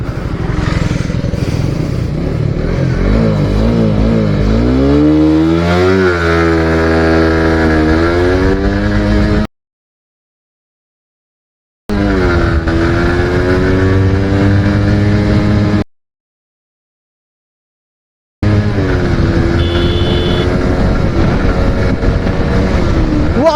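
A Suzuki GSX-R Pegasus motorcycle in a 0 to 100 acceleration run: the engine note climbs hard through successive gears with dips at each shift, loud and close with wind buffeting, broken by two short silent gaps.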